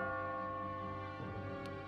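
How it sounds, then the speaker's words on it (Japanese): Bell tones in the Catherine Full Body video game, a faint sustained ringing with layered steady overtones that drone on quietly throughout, touched by a brief soft tick near the end. "鐘の音が聞こえたらゴールはもうすぐだ。"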